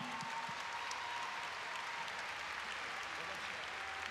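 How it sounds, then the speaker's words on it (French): Distant, even applause from the crowd at an indoor show-jumping derby in Bordeaux, a steady wash of clapping that runs throughout without pause. "vos applaudissements à nouveau pour Julie"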